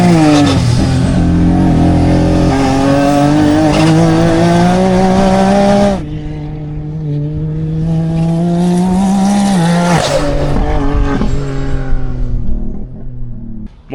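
A heavily upgraded Can-Am Maverick X3 race buggy with DRT parts revs loudly and steadily, its engine note rising and falling through a few throttle swells before easing off near the end, with no talk.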